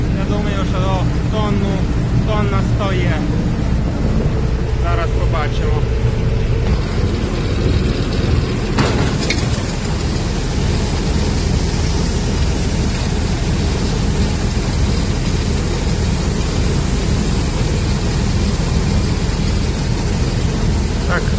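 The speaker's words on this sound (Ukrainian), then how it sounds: "Тато вже прийшов з трактором." A loud, steady tractor engine drones throughout, rumbling low and constant during spring barley threshing, with some voices audible early on beneath the noise.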